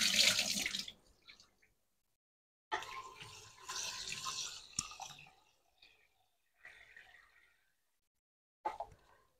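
Thin rice grains being washed by hand in water for biryani, with splashing and swishing in bursts: a loud opening swirl, then several shorter rinses separated by pauses.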